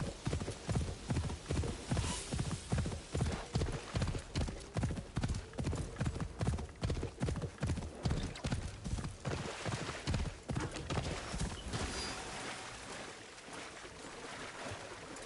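A horse gallops in the video game Assassin's Creed Shadows, its hooves beating a loud, fast, regular rhythm for most of the stretch before the pounding fades away toward the end, over an ambient wash.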